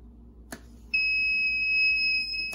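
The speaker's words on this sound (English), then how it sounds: "The buzzer will go off when the box is open" After a faint tap, a shrill electronic buzzer of an antitheft box alarm switches on and sounds continuously at a steady high pitch, loud and close.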